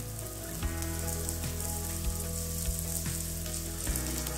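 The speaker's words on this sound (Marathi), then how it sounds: "परत आपल्याला मेथी परतून घ्यायची आहे।" Fenugreek (methi) leaves sautéing in a pan give a steady, close sizzle and crackle with faint stirring scrapes, continuous for a few seconds with no talk.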